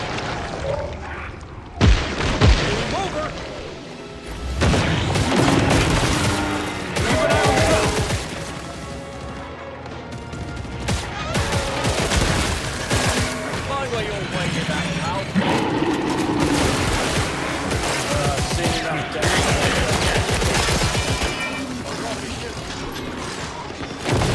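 Sentry guns in Killing Floor 2 fire rapid bursts of gunfire amid booms and impacts, loud and chaotic throughout, with a voice talking over the fighting.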